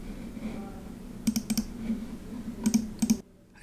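A computer keyboard is typed on while entering an Excel formula, giving a few distinct clicks in small clusters over a low background hum. The keystrokes end abruptly in near silence.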